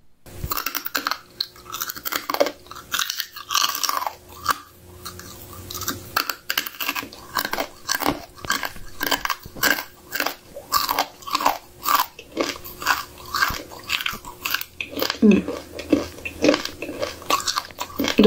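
Loud, close crunching and chewing of roaches and worms, a steady run of crisp bites and grinding with a brief voice near the end.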